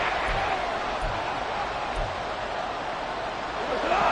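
Stadium crowd at a football game keeps up a steady, dense roar near the end of the fourth quarter, continuous and fairly loud throughout with no clear breaks.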